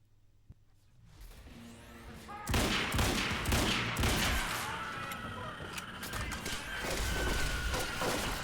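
Heavy sustained gunfire in the action game Quantum Break, starting quietly with a single tick before erupting into loud, dense volleys and impacts that continue to the end, with faint voice mixed in.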